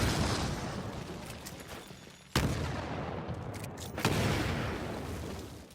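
Grenade explosions in the video game Titanfall: a sustained roar of blasts and rumble, with sharp loud bursts striking near 2.3 and 4 seconds over continuous gunfire and debris noise.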